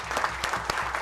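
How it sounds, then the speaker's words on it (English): Audience applause at a university development dialogue event, a brief burst of dense hand clapping from a seated crowd in a hall, moderately loud and steady. "so a big clap for all of them"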